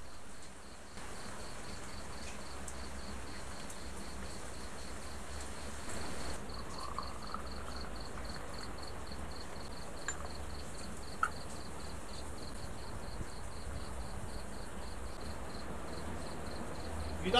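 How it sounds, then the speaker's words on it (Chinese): Crickets chirp in a courtyard on a rainy early-autumn night, a faint, even train of rapid pulses repeating steadily against soft background hiss. "听蛐蛐最后的鸣唱"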